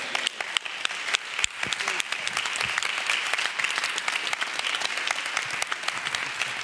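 Audience applause at a marriage intensive session for Dr. Phil, a dense steady clapping from a sizable crowd sustained throughout, fairly close and loud with scattered individual claps standing out.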